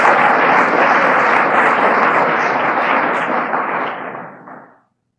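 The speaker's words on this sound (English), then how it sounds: "For him, I'll take applause." Applause from the audience at an AA speaker meeting, a full dense burst of clapping that holds steady, then thins and dies away near the end.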